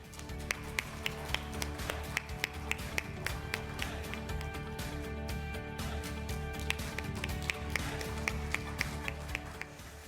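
A big round of applause at a conference opening ceremony welcoming a guest speaker: steady dense clapping across the hall with sharp individual claps, continuous and fairly even, no speech over it.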